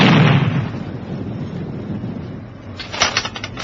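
A naval gun fires in a radio drama, a heavy, booming blast at the start that rolls off into a long rumbling decay, followed by a brief clattering burst near the end.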